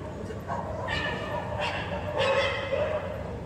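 Dogs at a hill town give several short yips and barks at intervals, with whimpering tones, fairly near, mixed with a background murmur of voices.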